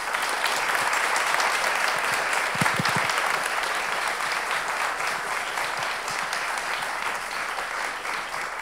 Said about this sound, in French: je vous prie de les applaudir bien chaleureusement